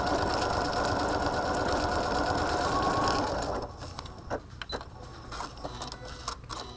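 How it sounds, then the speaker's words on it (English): A sewing machine runs steadily in a fast, continuous whir while stitching parallel rows on fabric, then stops abruptly, leaving scattered light clicks and handling noises. "that's going to keep me sewing an equal distance all the way down my row there"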